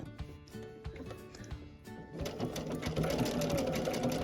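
Sewing machine running a blanket stitch on a scrappy Dresden quilt block, a steady rapid mechanical whir with stitching pulses, pausing briefly as the fabric is turned at the point, then starting again louder and continuous.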